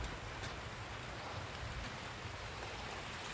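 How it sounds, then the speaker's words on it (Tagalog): Dense, constant hiss of heavy rainfall on a hut with a blue sack roof, even and unbroken throughout, with no voices. "Grabe ang lakas ng ulan."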